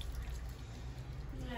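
Warm water pours and trickles over a baby during bath time, a soft, continuous splashing wash under the low background of the room.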